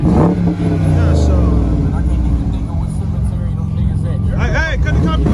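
A BMW engine revving hard during a long burnout attempt, a loud sustained roar with rising and falling pitch, heard close under people talking and shouting over it.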